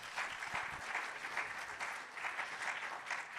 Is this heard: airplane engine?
no